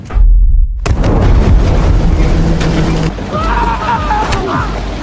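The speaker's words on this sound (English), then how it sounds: "Dalton detonates his bomb." A sudden loud boom as a bomb explodes on a ship gives way to a roaring, crackling rumble with clattering debris, heavy and close.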